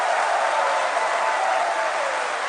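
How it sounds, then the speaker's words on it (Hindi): A large crowd at a political TV event in Nagpur claps in support, a dense, even roar of applause holding steady from start to finish with no talking. "जितने लोगों को नितिन गडकरी ने आज जो कुछ कहा उनकी बातों पर भरोसा है, वो लोग ताली बजाकर, हाथ उठाकर समर्थन करें।"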